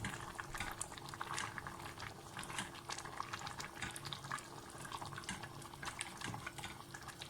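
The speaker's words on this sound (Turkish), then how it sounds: "Ve yaklaşık 15 dakika kaynatacağız." A pot of tomato breakfast sauce seasoned with rock salt boils steadily, a continuous soft bubbling and popping heard close and fairly quiet, with no voices.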